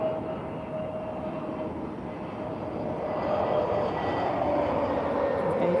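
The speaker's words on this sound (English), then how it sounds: "A321. Looks like a Neo to me. If I'm not mistaken. There, touchdown." An Airbus A321neo airliner touches down at Lisbon Airport with a broad, steady engine roar heard from a distance, swelling slightly louder toward the end, with no talking.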